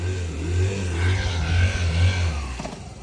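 A scooter engine pulls up nearby, its low buzzing hum rising and easing as the throttle changes before fading slightly at the end, with no talking over it.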